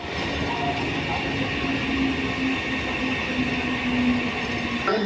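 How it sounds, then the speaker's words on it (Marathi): A Mumbai local train rumbles steadily at a station platform as it pulls in, a loud sustained roar of wheels and carriages with faint squeals, no speech over it. "प्लॅटफॉर्म क्रमांक 3 वर आलेली लोकल"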